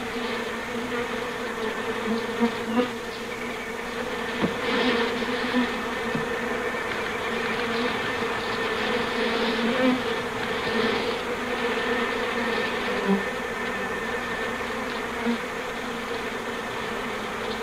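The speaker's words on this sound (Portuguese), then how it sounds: "Durante os meses de primavera em que as abelhas migram em busca de locais para se fixarem, enxames de forma indefinida como este são comuns." A swarm of bees migrating in spring in search of a place to settle, a dense continuous buzzing drone from many insects, steady and close, with faint scattered clicks and no talking.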